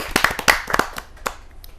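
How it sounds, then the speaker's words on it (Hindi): A small audience at a Hindi poetry gathering welcomes a poet with a short burst of scattered hand claps. The claps are sharp and separate, then thin out and fade within two seconds. "एक जोरदार तालियों से स्वागत करते हैं।"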